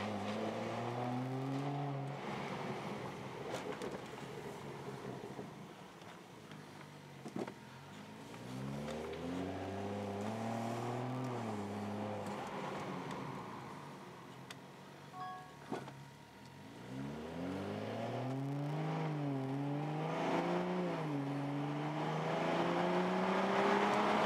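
A BMW F30 with traction lights on and FlexRay communication faults accelerates on a test drive. The engine climbs steadily through the gears, with repeated rising sweeps and brief dips between shifts, heard from inside the car over continuous road noise.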